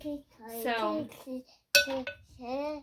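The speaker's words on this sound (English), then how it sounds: "My parents have these magnetic locks on all of their kitchen drawers." A single sharp click of a magnetic kitchen drawer lock cuts in between stretches of people talking.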